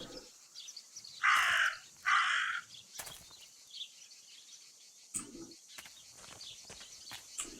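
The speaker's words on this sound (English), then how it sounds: "In a supernatural game, when a bird does that, you're supposed to follow it." A crow caws in the video game Martha Is Dead, two loud, harsh caws close together near the start, followed by quieter clicks and faint rustling.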